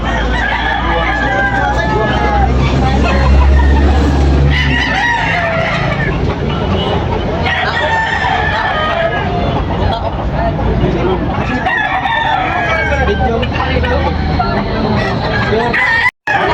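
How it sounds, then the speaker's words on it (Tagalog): Many roosters crow over and over amid a busy babble of voices and people talking at a gamecock market in Tabunok, Talisay, a loud, crowded outdoor scene with low rumbling underneath. "Maraming manok dito sa Tabunok mga kabakard."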